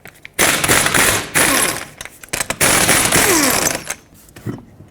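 Air impact wrench with a 21mm socket rattling off the five wheel lug nuts of a 2003-2008 Toyota Corolla, loud close bursts of hammering in several spurts with short pauses between.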